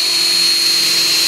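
Power drill boring a dowel hole into a wooden board for a dowel joint, a steady continuous whine with a bright high-pitched tone, close and loud throughout with no talking.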